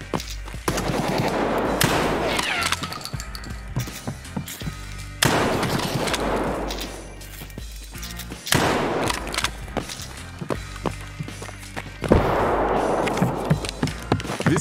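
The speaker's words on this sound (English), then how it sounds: "I was still getting used to this shotgun." Shotgun fire in Escape From Tarkov, with several loud, close blasts in separate bursts a few seconds apart, each trailing off into a noisy tail.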